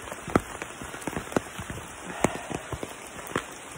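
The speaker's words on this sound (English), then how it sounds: "we're gonna hope it stops raining soon" Rain falls on a campsite and an umbrella in Montreat, North Carolina: a steady, close pattering hiss broken by irregular heavier drops that strike loudly every second or so, with no one speaking.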